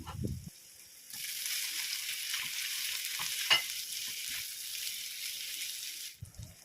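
Hotdogs hit a pan of sautéing garlic and onion, and a loud, steady sizzle flares up and holds for several seconds with faint stirring clicks, close and without talk.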